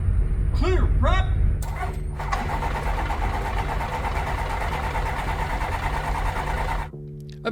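A flying boat's engine cranks with a few rising whirs, catches and settles into a steady, loud buzzing idle close by, running continuously before cutting out near the end.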